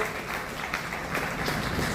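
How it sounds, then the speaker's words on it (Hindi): An audience at a Jain women's wing oath-taking ceremony in Bikaner breaks into sustained applause, a dense, even wash of clapping that holds steady from start to finish. "ऐसे सुधा जी रामपुरिया के लिए एक बार जोरदार हमारी तालियां यहाँ पर अवश्य गुंजायमान होनी चाहिए"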